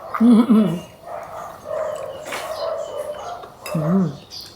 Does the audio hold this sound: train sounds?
no